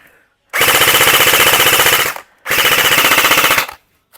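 An AK DB029 electric BB gun fires two long full-auto bursts of rapid, evenly spaced mechanical cracks, loud and close, with a short gap between them.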